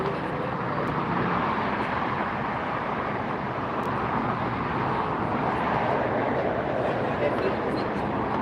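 A widebody airliner taxiing at LAX airport gives a steady, continuous jet engine roar that holds at a fairly constant level throughout, with no voices over it.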